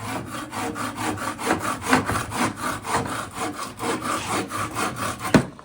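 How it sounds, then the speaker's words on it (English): A bow saw cutting through a piece of driftwood on a workbench, steady rhythmic back-and-forth rasping strokes at close range, about twenty strokes ending with a sharp knock, with no speech. "And I'm just going to use this bow saw."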